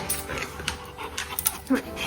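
A dog being trained for a deep pressure therapy service task pants steadily and sniffs close to the camera, with quick breathy bursts while a person talks over it.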